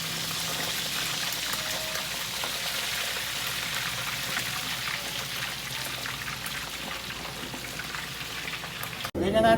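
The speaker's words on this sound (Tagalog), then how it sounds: "Prito na natin yung isaw" Isaw, grilled intestines, fry in a pan with a steady, dense sizzle and crackle that holds throughout, close and moderately quiet, with a brief clatter at the end.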